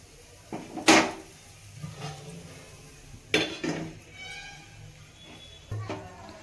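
Metal lid set down on a pan of grated coconut curry, with a few sharp clanks and clinks spaced apart and quieter handling noises between them, close by and with no talking.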